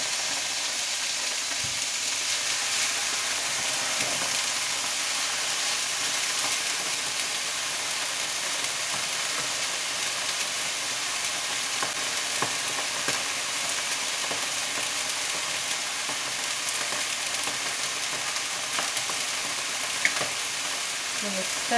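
Beef sirloin steak searing in a hot frying pan, a steady dense sizzle and crackle of fat running unbroken throughout at a close, even level.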